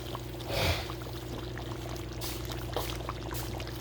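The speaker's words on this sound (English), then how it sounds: "I'll put a half a cup of water" Half a cup of water poured into gravy for smothered neck bones, a short splashing pour early on that fades into a steady low background hum.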